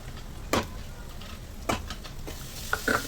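Onion browning in a pan with mint, coriander, green chili and ginger-garlic paste, quiet sizzle under a few sharp spoon-on-pan stirring scrapes and clinks.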